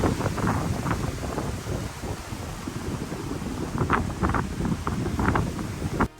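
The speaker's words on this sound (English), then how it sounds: "The wind is picking up." Strong wind from Hurricane Helene in Georgia roars steadily and close to the microphone, with broadband rushing and buffeting gusts throughout.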